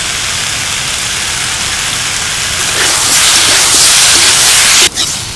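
Ridge gourd and potato frying with ground spices, tomato and a splash of water in a pan, a loud steady sizzle that swells into a fuller hiss partway through, then briefly dips before resuming.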